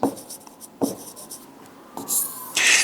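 Marker or chalk writing on a board during a physics lesson on angles: several short scratchy strokes in bursts, close and fairly loud, with no talking.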